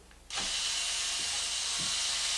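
A power driver runs long screws into plastic parts of an XMAXX RC car, a sudden loud steady whir starting after a brief pause and holding continuously, close up with faint thumps underneath.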